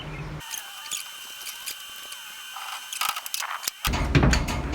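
Pliers work a clamp off an aluminum transfer case housing on a 1980 Chevy Scottsdale, with a rag laid over the metal, giving close, sporadic clicks and scrapes that build to a louder rustle and clatter.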